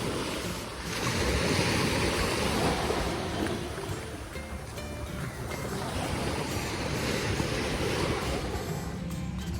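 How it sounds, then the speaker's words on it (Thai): Sea waves wash onto a beach at Chumphon, Thailand, after rain, in a broad, continuous roar, with gusts of wind buffeting the microphone. "ทะเลชุมพรวันนี้ สวยจัง หลังฝนตกนะครับ"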